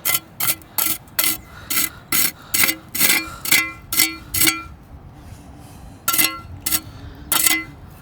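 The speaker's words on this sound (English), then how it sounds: "I'm just scratching it off a little bit" A surface is scratched to roughen it and remove excess material: about a dozen quick, even rasping strokes, close and fairly loud, then a short pause and a few more strokes.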